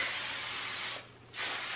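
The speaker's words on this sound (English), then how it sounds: "Make sure you spray that underneath and then kind of put it all back and spray down." Hairspray is sprayed onto hair in two close, steady hissing bursts separated by a short pause, the second burst starting abruptly; no one speaks.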